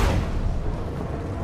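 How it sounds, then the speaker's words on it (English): Booming gunfire in a forest from the video game Marvel's Avengers, a heavy low blast at the start followed by rumbling, rolling reports that stay fairly loud and muffled. "Sounds like gunfire in the forest."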